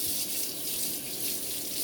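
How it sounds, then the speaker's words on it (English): A kitchen faucet runs steadily to rinse a spoon, a continuous close hiss of flowing water with no pauses. "Rinse off my fork, or my spoon rather."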